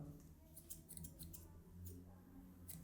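Thinning scissors snip repeatedly through very fine hair in a quiet salon, a series of short, soft metallic cuts over a low steady background hum.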